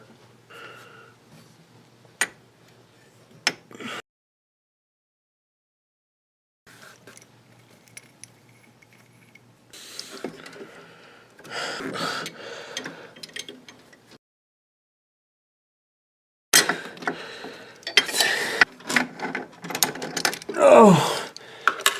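A flare tool forms a flare on a brake line while a 2001 Saturn SC2 is being repaired, giving intermittent metallic clicks, ratcheting turns and clanks in short bursts separated by silent pauses, with occasional effortful breathing.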